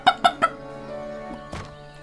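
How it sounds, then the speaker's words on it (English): A chicken in the farming video game Everdream Valley gives three quick sharp clucks in a row, followed by softer clucking over a faint sustained musical tone, close and clear with no talking. "Sounds like a chicken."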